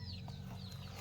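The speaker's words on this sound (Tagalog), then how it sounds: "Lumakad na yung mga manok." Chickens clucking close by at a farmyard, soft repeated clucks over a steady low hum, faint and brief.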